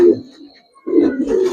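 A silver Giribaz high-flyer racing pigeon coos up close, a short throaty burst, then a brief pause and a longer rolling coo, with no talk over it.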